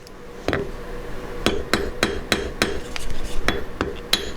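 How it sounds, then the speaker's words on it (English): A hammer forging silver wire on a metal block, a dozen sharp ringing blows at an uneven steady pace, close and loud with no talking. "I'm going to forge on the exact same side, only at the opposite end of the wire."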